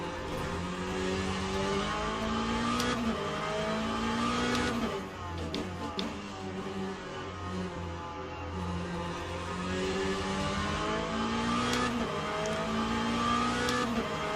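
Race car engines scream in Le Mans Ultimate during a Fuji endurance race with BMW prototypes and McLarens, a continuous high-revving whine with gear shifts, a rival car passing around the midpoint and brief ticks over the steady drone.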